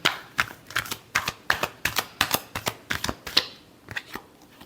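A deck of tarot cards is riffled and tapped in a run of about fifteen crisp, close clicks and flutters in an uneven rhythm, each one short and sharp, with no voice over it.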